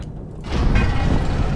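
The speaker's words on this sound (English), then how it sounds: "machine gun was reloading" Mechanical clatter and creaking of a tank machine gun reloading in the World War II tank game Tank Squad, aboard a Tiger on the Eastern Front, a short close rattle swelling over a low rumble.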